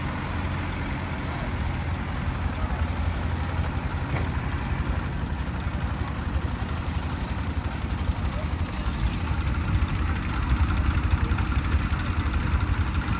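A tractor engine runs steadily while it cuts and levels land at a canal works site in Amaravati, a continuous low diesel drone with a speaking voice over it.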